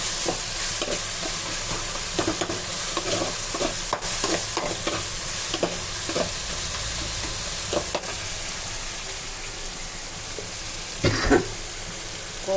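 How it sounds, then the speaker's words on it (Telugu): Onion, green chilli, tomato, coriander and curry leaves frying in a pan for upma, a steady broadband sizzle with repeated scraping stirs and clinks of a spoon throughout, close and continuous, one louder scrape near the end. "ఉల్లిపాయ, పచ్చిమిర్చి, టమాటా, కొత్తిమీర, కరివేపాకు అన్నీ బాగా ఏడనివ్వాలి"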